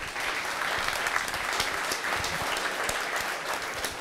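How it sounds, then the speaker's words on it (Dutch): Audience at a Solar Team Twente design presentation applauds in a dense, even burst of clapping that holds steady throughout with no talk over it. "Jurnan Schilder, een applaus"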